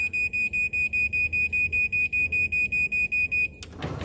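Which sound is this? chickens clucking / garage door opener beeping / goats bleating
garage door opener beeping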